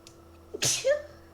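A single sharp human sneeze, close and fairly loud, with a small intake of breath just before it, standing alone in a quiet room.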